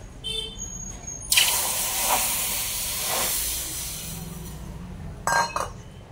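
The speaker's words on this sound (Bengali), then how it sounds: "তো এই যে এখন দিয়ে দেবো জল" Water poured into a hot cooking pot bursts into a sharp, loud steaming hiss that eases into a long, steady simmering rush, with a few glassy clinks near the start and end.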